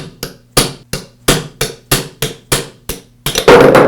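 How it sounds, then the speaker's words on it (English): A hammer strikes a punch to drive out a Makita grinder spindle bearing, about ten sharp metallic blows at a steady, roughly even rhythm, close and loud, ending in a brief scraping clatter. "Now I can use a punch and a hammer to remove the bearing."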